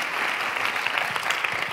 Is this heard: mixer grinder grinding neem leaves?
no